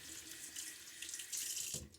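Water runs steadily from a tap to wet a shaving brush, a faint, even hiss and splash that thickens briefly near the end, with no talk.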